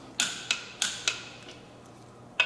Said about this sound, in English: now we're torquing the pressure plate on